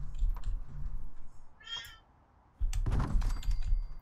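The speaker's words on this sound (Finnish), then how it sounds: "Voi että kissa." A cat gives one clear, fairly close meow during a quiet gap, framed by shuffling, thumping handling noises before and after.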